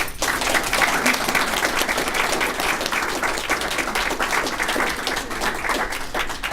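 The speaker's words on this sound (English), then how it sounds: "So if we could give everyone a round of applause" Loud, dense applause from an audience honoring a row of presenters at a speaking event, sustained evenly across the whole stretch with no talk over it.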